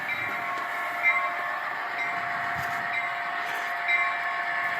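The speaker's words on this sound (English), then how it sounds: "So I'll rev it up one more so we can pick up speed a little bit" Simulated sound from a model diesel locomotive climbing a grade: a steady humming prime-mover drone holds at a revved-up level, moderately loud and continuous, with faint clicks and rattles on top.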